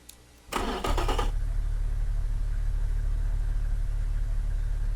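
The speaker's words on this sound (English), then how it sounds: "As you can tell, it doesn't really sound all that menacing. It's one of the quieter engines that I have." A car engine in the racing game Automation, one of the quieter builds, making 252 horsepower at 7,500 RPM, cranks briefly with a burst of starter noise, then settles into a steady, low, even idle that carries on alone.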